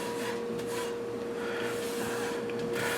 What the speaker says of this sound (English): I'm just toasting the almonds lightly here in a dry skillet